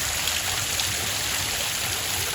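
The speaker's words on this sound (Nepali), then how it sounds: "त्यो पानी झरिबस्छ हो" Water falling steadily at Happy Land Park in Nepal, an even, continuous rushing hiss with no pauses and no voices.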